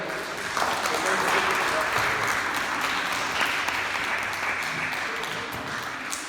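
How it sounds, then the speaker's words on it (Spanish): A congregation gives its deacon a strong round of applause, a continuous wash of clapping from a crowd that fills the room at an even level, with some voices in the mix. "Vamos a dar un fuerte aplauso aquí a mi diácono."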